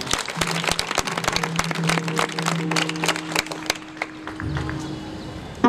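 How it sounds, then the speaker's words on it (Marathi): A crowd at a kirtan held for a guru's birthday breaks into loud, dense applause that carries on for several seconds, then thins to scattered claps near the end, with a sustained musical drone beneath. "त्यांच्यासाठी एकदा जोरदार टाळ्या वाजवा"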